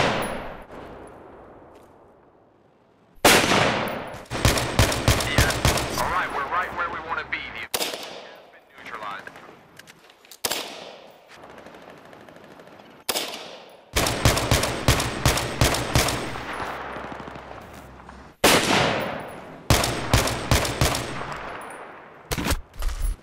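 DPMS LR-308 rifle with a 24-inch barrel, an AR-10 style .308, firing outdoors: sharp loud reports in rapid strings of several shots, each with a long echoing tail, separated by quieter gaps.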